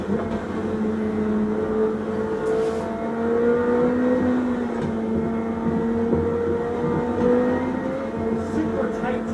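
McLaren 765 sports car driving through tight canyon corners in Angeles Forest, its engine droning steadily with rising and falling pitch as it works through the bends, loud and continuous throughout.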